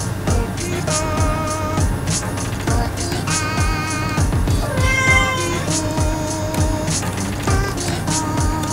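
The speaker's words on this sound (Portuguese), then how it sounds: "E o miado do gato ajuda muito" A cat meows repeatedly over loud, busy Friday Night Funkin game music with a steady beat; the meows are partly buried in the mix.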